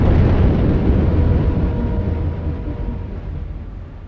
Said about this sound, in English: The explosion was deafening.